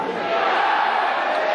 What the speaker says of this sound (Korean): 야구장이어서 응원을 안 할 수가 없겠죠